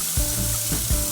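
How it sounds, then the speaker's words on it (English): Hawaiian-marinated burgers hitting a preheated skillet, giving a brief close hiss and sizzle with a couple of small shifting sounds and no voices. "I've already been warming up the skillet. I drop the burgers in that have the Hawaiian marinade on them."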